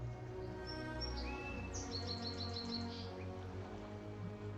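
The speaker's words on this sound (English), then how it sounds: "Yeesh, that bird is loud." A loud bird in a VRChat game world calls in repeated chirps and short whistled phrases over a low ambient hum, with no voices.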